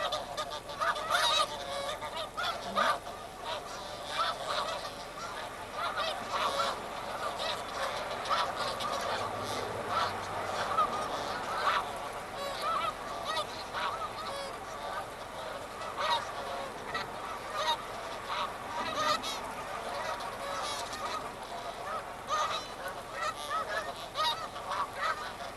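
A large flock of geese lifting off a field together, honking continuously in a dense, far-off chorus that carries across a busy road, with steady traffic noise running beneath the calls throughout.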